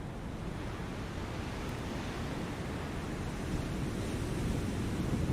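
Ocean waves in the naval combat game War on the Sea, during Operation Watchtower: a steady, broad wash of surf and wind, continuous and fairly loud, swelling slightly toward the end with no talk over it.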